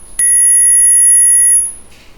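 A Mivi S24 Bluetooth FM soundbar plays a high-pitched 10,000 Hz test tone, a single steady piercing beep lasting about a second and a half that starts abruptly and then cuts off.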